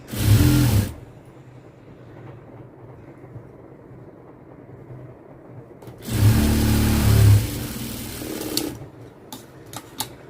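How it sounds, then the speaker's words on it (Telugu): A sewing machine stitches a blouse lining in two loud bursts, a short run at the start and a longer one later, with quiet stretches between them. "ఇక్కడైతే కుట్టు వేసేస్తున్నాను"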